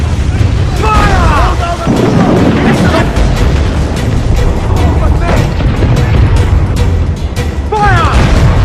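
Ship cannons fire in a naval battle in Assassin's Creed IV Black Flag, heavy booming blasts rolling under constant wind and sea roar, with shouted voices breaking through.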